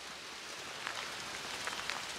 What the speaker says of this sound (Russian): Дождь просто усиливается.